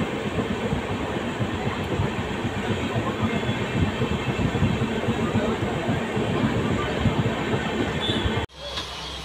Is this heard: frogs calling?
no